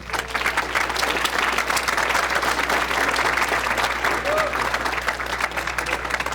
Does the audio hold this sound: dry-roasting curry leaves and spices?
no